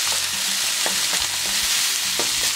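Bacon frying in oil in a pot for Christmas rice, a loud continuous sizzle and crackle with small stirring knocks, close up and without any voices.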